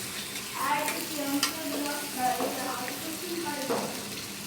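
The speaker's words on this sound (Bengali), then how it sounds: "এই পানিটার মধ্যে আমি গোশতটা ভালো ভালো কইরা বাইজা লুম" Beef sizzles and fries in a pan while a utensil stirs and scrapes through it, with soft, irregular clinks and hissing throughout.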